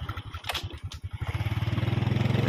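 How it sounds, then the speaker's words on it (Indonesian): Motorcycle engine starting up close by, a sputtering uneven putter that settles into a steady, rapid idle thrum, with a couple of faint clanks early on. "Panci bawa motor dia nih guys"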